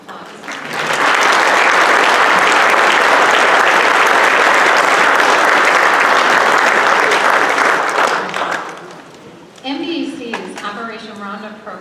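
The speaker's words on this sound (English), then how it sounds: "let's give them a round of applause" Audience at an annual in-person meeting gives a loud, full round of applause, a dense wash of clapping for about eight seconds that fades, followed by a voice speaking.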